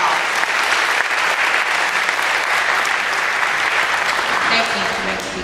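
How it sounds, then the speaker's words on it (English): Audience at a school honors day applauding Spanish award winners, steady dense clapping that continues evenly and tapers slightly at the end, with faint murmuring voices beneath. "Let's give all our Spanish superlatives a round of applause."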